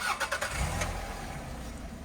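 A petrol car engine cranks with a few quick starter whirs, catches, and settles into a quiet idle, heard faintly and alone.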